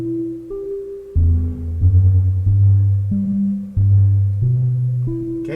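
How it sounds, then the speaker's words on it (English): A step sequencer steps through a short sequence of synthesized notes, about nine distinct pitches in an even rhythm, each held briefly before jumping to the next, loud and close with no talk. "It's a device that puts into sequence a number of notes"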